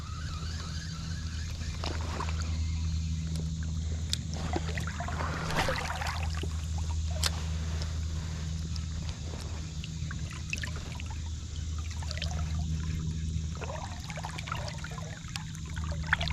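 Fast river current rushing past a fishing spot, a steady close wash of flowing water with occasional trickles and small splashes, continuous throughout.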